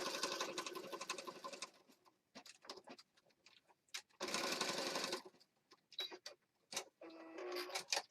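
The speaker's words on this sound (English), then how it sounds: "So I just stitched around that real fast." A sewing machine stitches around the edge of junk journal paper in quick bursts, each run of rapid mechanical whirring broken by short pauses and light clicks, close by and fairly quiet.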